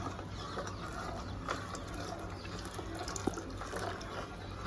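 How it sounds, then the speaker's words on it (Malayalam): Second coconut milk is poured into a simmering kadala parippu payasam, making a continuous soft liquid pour, with a faint background clatter and a single sharp tap. "ഇനി നമുക്ക് 2ാം പാൽ ഒഴിക്കാം"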